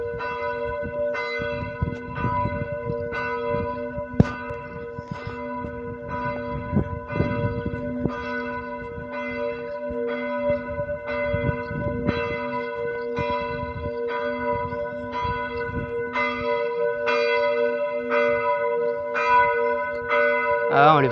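Church bells in Pionsat ring at 19:55, a steady evening peal of repeated strikes with sustained ringing tones, heard from a distance and without speech.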